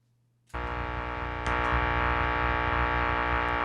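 Quiet hum, then a dense, buzzing distorted guitar drone through an Ammoon Pockrock effects pedal with all effects on swells in abruptly and sustains loudly, with a second surge about a second later.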